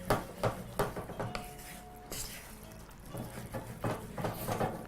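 Homemade beef curry stirred in a pan, a spoon repeatedly clinking and scraping against the metal, close and moderately loud in a steady uneven rhythm.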